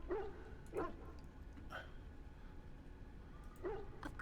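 Puppies in the fantasy role-playing game Dragon Age: Origins let out a few short, yipping barks and whimpers, spaced irregularly over low game ambience, fairly quiet.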